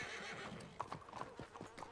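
Horses in Red Dead Redemption 2 clip-clop along, with a sharp neigh in the middle, set against a steady game soundscape and a faint voice.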